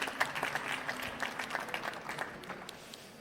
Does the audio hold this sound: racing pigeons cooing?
no